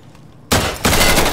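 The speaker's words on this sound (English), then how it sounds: "Bang, bang, shots fired." Loud, sustained bursts of automatic gunfire in the shooter game Insurgency, starting abruptly after a quiet moment and intensifying into a dense, continuous fusillade.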